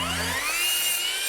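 A power saw cuts wood for the top back support of an Adirondack chair: a brief whine of the motor spinning up, then a loud, steady high-pitched cutting roar held throughout.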